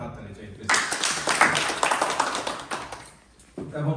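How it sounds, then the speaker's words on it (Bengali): A crowd at a Bronx community gathering for a New York State Democratic primary claps together, a dense burst of applause that swells, fades, and gives way to someone talking. "ব্রঙ্কসবাসী কমিউনিটির প্রতি আমি একটা হাততালি চাইতেছি"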